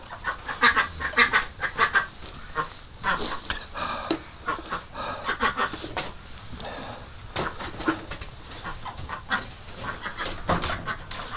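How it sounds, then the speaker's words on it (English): Ducks in a pen quack in busy, overlapping bursts, loud and close, and keep up the chatter for several seconds with no talking. "that's another duck"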